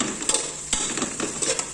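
Chopped green chilies fry with spices in a pan, with a steady sizzle broken by repeated clinks and scrapes of a spoon stirring against the metal.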